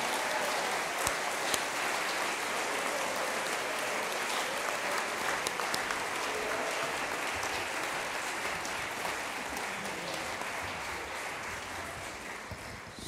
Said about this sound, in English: if we can just give a massive round of applause for Bruce, that would be great.